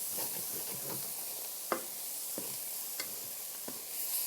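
Sizzling gluten-free taco filling is stirred in a pan, a quiet hiss of frying with a few light scraping strokes of a spoon, close and without talk.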